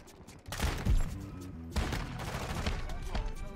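A shotgun fires in Modern Warfare 2 with two or three loud, booming blasts close together, each trailing into a sustained rumble and game sound over a busy background.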